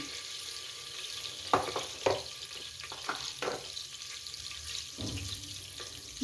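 Cumin seeds sizzle in hot oil for pulao rice, a steady close crackling hiss with a few sharper pops and stirring scrapes over it.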